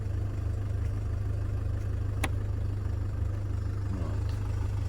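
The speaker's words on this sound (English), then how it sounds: "we'll see if there's any change in engine sound" A cold Land Rover Freelander 2 engine idles steadily, a low, constant drone heard close and alone, with no change in note throughout.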